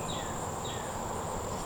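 Honey bees hum in a steady, close drone around an open hive during an inspection, a continuous buzzing that fills the moment with no voices.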